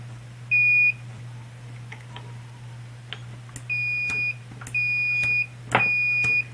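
A multimeter on continuity setting sounds sharp, steady electronic beeps while testing the switch of a cheap angle grinder: four tones of varying length, close and clear over a low hum and faint clicks of the probes.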